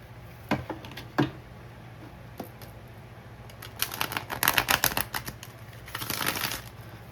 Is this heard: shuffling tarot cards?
yes